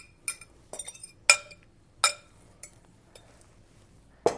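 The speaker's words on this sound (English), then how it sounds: "Stir it around." Spoon stirring shredded chicken in a cheesy sauce inside an Instant Pot gives several separate clinks and scrapes against the metal pot. They come at an uneven pace, are fairly close and moderately loud, with quiet gaps between them and no voice.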